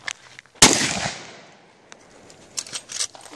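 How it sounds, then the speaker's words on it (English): A single sharp, loud gunshot from a handgun at an outdoor shooting session, its report decaying over about a second, followed by a few faint clicks and handling noises. "My turn with this gun. That thing's loud."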